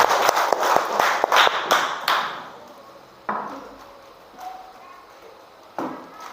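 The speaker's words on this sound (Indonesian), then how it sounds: "Ya, tepuk tangan untuk kita semua." Classroom students clap together in a short rhythmic burst of hand claps, loud and close at first, then fading as a teacher's voice carries on over quieter room noise.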